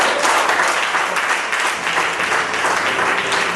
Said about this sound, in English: So let's get a big applause.